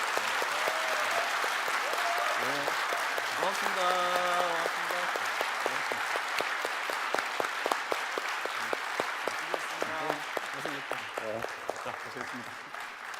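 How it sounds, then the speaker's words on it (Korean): Audience at a Bareun Party presidential primary policy debate in the Chungcheong region applauds the two candidates, Yoo Seung-min and Nam Kyung-pil; steady, dense clapping fills the room throughout while someone speaks over it and says thanks. "여러분들 박수 한번 부탁드리겠습니다"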